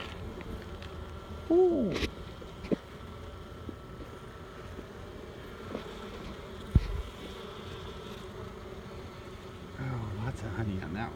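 Honeybees hum steadily around an open hive as a frame is lifted out, a continuous close drone with a few sharper buzzes, while a person briefly exclaims.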